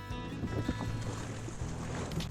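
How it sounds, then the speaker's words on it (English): A kayak paddled on the sea off Los Cristianos in southern Tenerife, with a soft steady wash of water and faint paddle swishes, fairly quiet and continuous with no talk. "And then you go and start kayaking."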